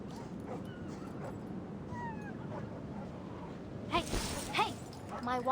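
A dog whimpers and yips in the video game Reverse: 1999: several short, high yelps cluster near the end over game ambience, with voices talking earlier.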